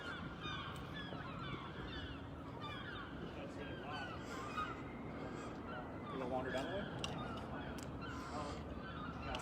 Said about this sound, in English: Woke up the seagulls.